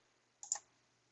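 A single short mouse click as a software import button is pressed, crisp and close against near silence.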